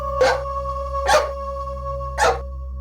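A pet dog named Tommy barks three times in a steady rhythm, each bark sharp and fairly close, over a constant low electrical hum in a quiet house, with no talking.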